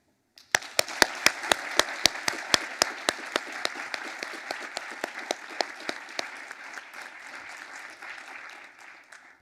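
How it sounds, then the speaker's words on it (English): An audience applauds at a student festival presidential election event for two candidates, starting with a few sharp, loud individual claps that quickly swell into a steady, dense wash of clapping lasting about nine seconds and fading slightly at the end. "give a big, warm, and loving applause for the two candidates running today."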